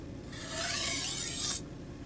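A steel blade drawn across a clay structural brick at a raised angle with a light touch, one steady gritty rasp of about a second and a half, close and alone.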